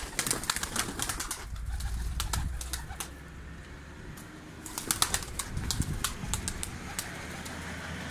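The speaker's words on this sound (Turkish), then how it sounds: "Kuşlar çok güzel." Pigeons coo softly in a coop while wings flap in sharp bursts, close by and scattered across the recording.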